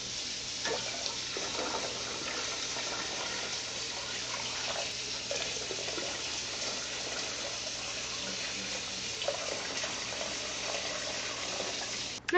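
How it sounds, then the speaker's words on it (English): Hot tap water pours steadily into a canning pot during water bath canning for strawberry jam, a continuous gushing rush at moderate level lasting throughout with no pauses. "I'm just going to make sure that it's hot water from my tap."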